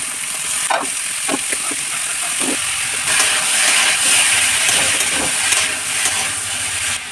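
Watermelon rind sizzling in a pan with onion and green chilli, a steady broadband fry with occasional scrapes and clicks of stirring, close and fairly loud with no talk.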